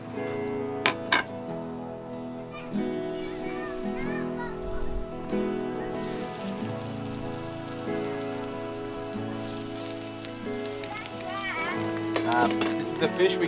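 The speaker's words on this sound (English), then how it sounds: "threw a bit, a little bit of vegetable oil on there, just to shallow fry them. Throw these fillets on." Thin fresh-caught fish fillets shallow fry in vegetable oil on a beach-side barbecue, with a loud, continuous rain-like sizzle, occasional sharp crackles and a voice talking over it.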